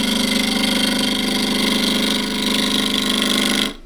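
A gouge cuts into a spinning workpiece on a wood lathe, a steady, loud droning whir with a tonal hum that holds for several seconds and then cuts off abruptly.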